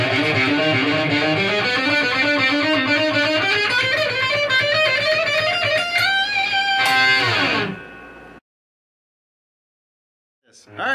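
Heavily distorted electric guitar tears through a fast, loud Phrygian dominant shred lick, with descending and ascending runs and a bend before cutting off abruptly into silence.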